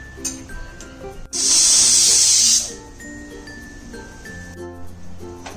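A loud burst of hissing steam blasts from a pressure cooker cooking raw mangoes for over a second, then cuts off, leaving soft clinks and quiet kitchen background.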